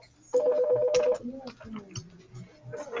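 A classroom telephone gives a sustained electronic ring tone lasting about a second, then students and a teacher talk and move around the room.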